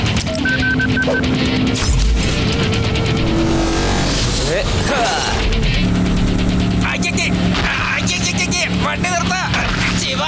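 A car speeds off carrying a kidnapped scientist in a dramatic scene, with loud revving, squealing tires and crash-like bursts mixed with music and shouting voices throughout.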